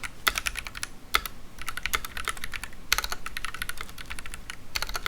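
Rapid typing on a custom mechanical keyboard with tactile Holy Panda switches and a brass plate, close and crisp, with uneven bursts of keystrokes and no talking.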